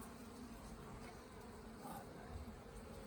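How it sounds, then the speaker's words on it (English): A steady, dense buzzing of many honey bees fills the air during a backyard hive inspection, loud and continuous with no pauses, like a swarm close around. "you see like how you hearing them kind of loud"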